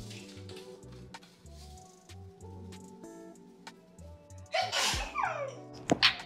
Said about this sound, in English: It ain't seasoned if it ain't sneezing